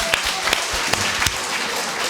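A congregation claps at a Friday prayer meeting in a Korean church, several distinct sharp claps standing out over a softer bed of clapping, moderately loud and close.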